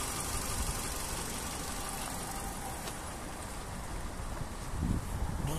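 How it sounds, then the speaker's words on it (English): A 2007 Nissan Micra 1.4 petrol automatic hatchback idles with a steady, smooth low hum, heard close by and alone, with a slight rise in engine noise near the end. "engine sound nice and smooth."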